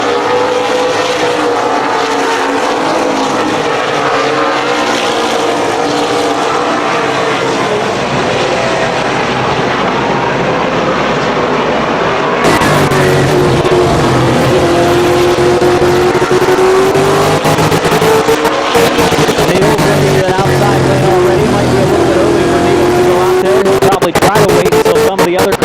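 Race cars roar around the Columbus Motor Speedway oval during the main event, their engines loud and continuous with rising and falling pitch as they pass, while a commentator talks over the racket.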